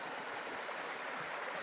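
Creek water flowing in the bush during a solo hunt, a close, steady rush and burble that continues evenly with no voices.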